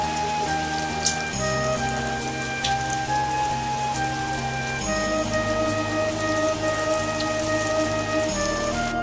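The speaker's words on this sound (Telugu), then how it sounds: "వాన భయంకరంగా ఉంది ఫుల్ వాన అనమాట బయట ఫుల్ వాన" A dense, steady wash of heavy rain pours down outside without a break, with a low droning hum running beneath it.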